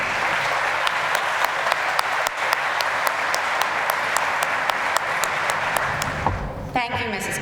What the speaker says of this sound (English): Please join me in a round of applause for your MCs this evening.